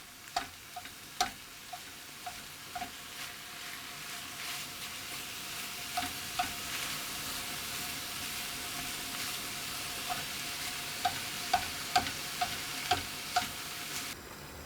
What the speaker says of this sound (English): I'm going to put my minced beef in, and I'm going to cook that through